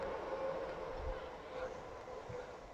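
A train crossing a viaduct near Central Park gardens in Chelmsford, UK, heard as a faint, steady distant rumble and hum with a low drone that holds through the whole stretch.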